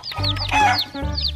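Close, loud clucking calls from a rainbow-colored chicken in short bursts with a few rising squawks.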